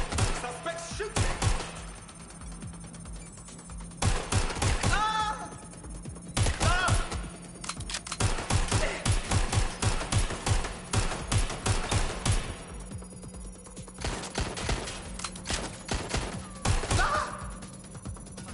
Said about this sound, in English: Suspects shooting.